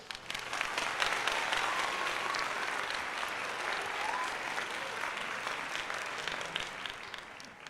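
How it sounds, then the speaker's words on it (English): Applause during a Phillies versus Dodgers baseball broadcast, a steady wash of clapping lasting several seconds, fairly faint and distant. "Let's give him a little round of applause."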